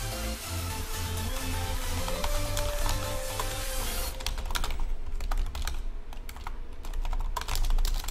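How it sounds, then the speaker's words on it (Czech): Rapid clattering keystrokes on a computer keyboard, close and busy in uneven bursts over background music and game sounds. "Píčo, psát se na týhle klávesnici"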